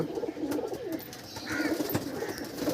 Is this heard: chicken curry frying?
no